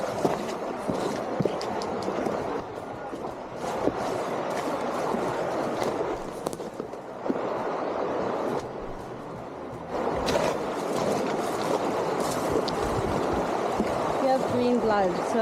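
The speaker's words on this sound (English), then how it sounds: "with this river flowing through and the constant noise it makes" A river flows steadily along a hiking trail, its broad, constant rushing wash filling the air without pause, with faint movement noises now and then.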